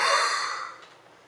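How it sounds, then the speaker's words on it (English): One long, breathy exhale pushed out forcefully in a morning breathing exercise, near and clear, fading away over about a second with no speech. "So when I wake up, I like to do like a breathing exercise"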